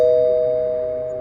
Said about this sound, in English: An hour later, he heard his doorbell ring.